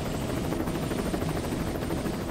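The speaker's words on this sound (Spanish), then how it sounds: "Y el helicóptero volando solo." Helicopter flying in Rambo: The Video Game, set in 1985 Vietnam near a waterfall: a steady, dense rotor and engine drone holds at even loudness for the whole stretch, with no voices over it.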